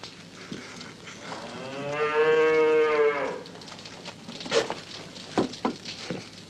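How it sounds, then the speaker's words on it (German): A cow gives one long, loud, drawn-out moo with a rising and falling tone, followed by softer scattered rustles and thumps outdoors. "Du hast wohl noch nie eine Kuh brüllen hören."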